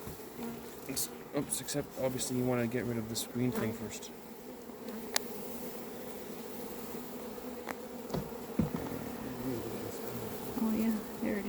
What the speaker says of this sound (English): all you do is you just take the rest of the bees and you dump them in